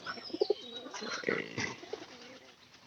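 Domestic pigeons kept in a village loft give soft, low coos in short repeated bursts, fairly faint and close, with no voices over them.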